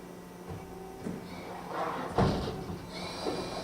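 The door of a 2008 Mori Seiki NH5000 machining center operates over steady machine hum, with several sliding thumps and a louder clunk near the middle, close and moderately loud.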